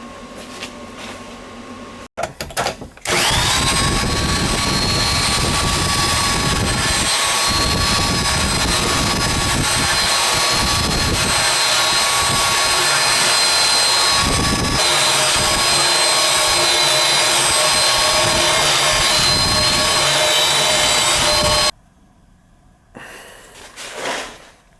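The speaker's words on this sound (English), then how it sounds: "I'm just gonna hit that with the grinder a little bit" An angle grinder works steadily on the auger housing wells of a John Deere 47 two-stage snowblower, giving a loud, continuous high whine that runs for about twenty seconds after a brief start-up and then cuts off.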